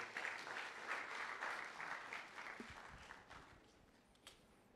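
Applause from an orientation audience of fresh students greeting a bank presenter, a steady wash of many hands clapping that gradually thins and fades toward the end, with a brief voice near the close.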